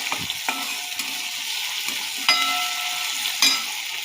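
Potatoes fry in a pan with a continuous bright sizzle, broken by a few sharp clicks and scrapes as they are stirred.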